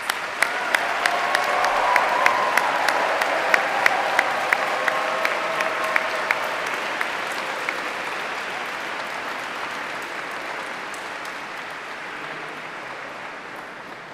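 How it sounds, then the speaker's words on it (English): Graduates clap for themselves at a university graduation ceremony inside Canterbury Cathedral, with a few sharp early claps swelling into broad, reverberant applause that gradually fades over about fourteen seconds. "Please give yourselves one more round of applause."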